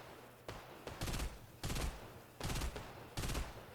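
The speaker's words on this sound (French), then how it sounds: "Ils ont remis le FAMAS à 30 balles et en burst de 3." A FAMAS rifle in Fortnite fires in repeated three-round bursts, four loud, sharp clusters of shots spaced about half a second to a second apart, with no talking over them.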